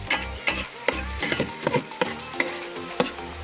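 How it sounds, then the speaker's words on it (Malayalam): Birds eye chili pickle being stirred in a pan, a steady sizzle broken by repeated scraping strokes roughly every half second, close and clear with no talking. "അപ്പോൾ നമുക്ക് ഇവിടെ ഒന്നുകൂടെ ഇത് ഇളക്കി കൊടുക്കാം"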